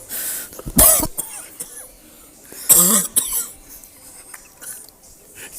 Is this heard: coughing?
yes